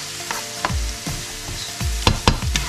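Garlic sautéed in a hot pan, repeated scraping stirs every half second or so over a steady close sizzle.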